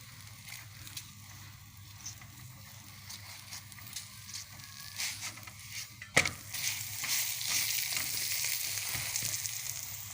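Cabbage paratha frying in ghee on a griddle, a soft continuous sizzle with a sudden sharp crackle midway, after which the hiss grows brighter and louder.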